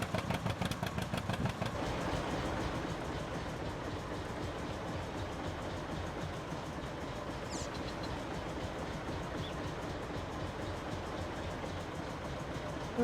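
A steady, rhythmic tractor engine drone in Farming Simulator 19 chugs along continuously at an even pace, with no voices and a fairly constant level throughout.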